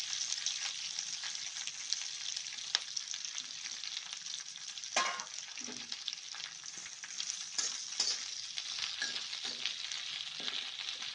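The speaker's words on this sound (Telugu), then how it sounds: "ఒక స్పూను ఆయిల్ వేసుకుందండి. ఆరబెట్టుకున్న కరివేపాకు, కడిగి ఆరబెట్టుకున్న కరివేపాకు వేసుకుందామండి" Washed and dried curry leaves sizzle and crackle steadily in a spoonful of hot oil, a dense continuous frying hiss with occasional stirring clicks and pops.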